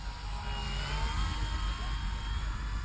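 An E-flite Cherokee RC model plane with its flaps fully deployed makes a slow, close pass, giving a steady electric motor and propeller whine over a low outdoor rumble, with no talk.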